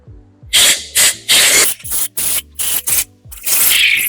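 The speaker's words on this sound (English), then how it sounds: "I'll just lightly blow air, blow all the stuff that fell into the cylinders and everything off, get it out of here." Compressed air blown in a series of short, loud hissing bursts to clear debris from the cylinders of a Cummins ISB 6.7 engine during a cylinder head replacement, about eight blasts with brief gaps, alone without talk.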